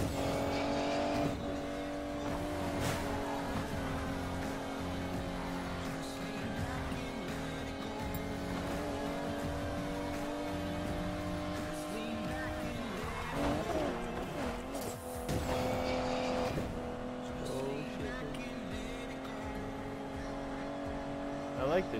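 A car drives through town in Need for Speed Payback, its engine droning steadily with pitch shifts as it shifts gear, occasional tyre squeals and a slight dip in tone midway, while a person talks over it.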